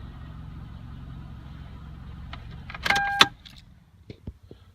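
A Toyota Camry Solara with a suspected head gasket fault idles quietly, then shuts off with a brief clunk and rattle, followed by a few faint clicks and ticks in near silence.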